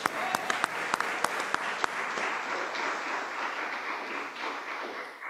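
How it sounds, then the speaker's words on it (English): A congregation at a chapel service breaks into warm applause, sharp individual claps at first merging into a steady wash of clapping that gradually dies away. "That's worth cheering."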